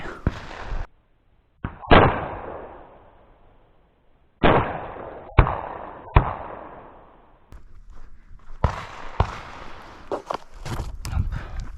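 A 12-gauge shotgun fires lead and steel cartridges outdoors, with about ten sharp, loud reports, some spaced a second or more apart and others in quicker clusters toward the end, each followed by a brief decaying echo.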